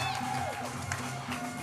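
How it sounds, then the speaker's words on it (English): Spectators at a UCI Trials World Cup superfinal in Antwerp cheer and roar loudly in a brief, dense burst of crowd noise, with a voice mixed in. "The crowd are going wild"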